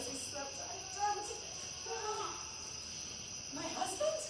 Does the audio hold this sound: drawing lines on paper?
no